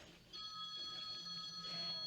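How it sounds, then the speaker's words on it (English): A telephone rings with a steady electronic tone, faint in the background behind game sounds. "If you hear the phone ringing in the background"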